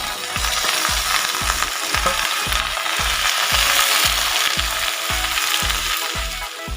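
Malabar spinach leaves and stalks frying in a pan, a loud continuous sizzle with a steady rhythmic scraping of stirring, close and alone without talk.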